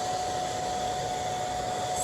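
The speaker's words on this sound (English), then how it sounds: "I got the blow dryer going" A hand-held blow dryer runs continuously at close range indoors during a Texas snowstorm, a steady even whooshing roar with a faint high whine, no talking.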